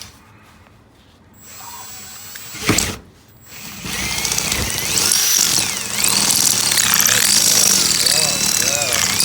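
A power drill fitted with a bigger bit bores slowly into a workpiece during garage wrenching, running as a loud, steady whine for most of the stretch after a short burst and pause.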